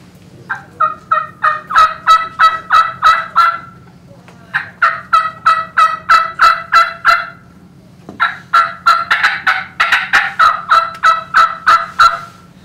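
Wild turkey calls are imitated with a hand turkey call in three bursts of rapid, evenly spaced yelping notes. Each run rises and falls and is clear and fairly loud, with short pauses between runs and no talking.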